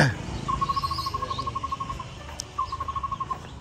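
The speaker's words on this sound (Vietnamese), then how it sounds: "Tiếng thú rừng kêu đấy anh em. Đấy, chim kêu, sóc kêu rồi tiếng của những cái loài thú ở phía trong trên rừng này kêu đấy." Forest creatures calling on a mountainside in Taiwan, a rapid, even series of high chirping notes repeating in two runs over a steady insect-like background, moderately near and faint, without talk.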